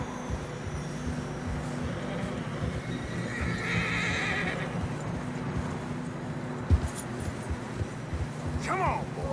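Horses in Red Dead Redemption 2 on a snowy mountain trail: steady hoof plodding under constant wind-like game ambience, with a whinny partway through and another near the end.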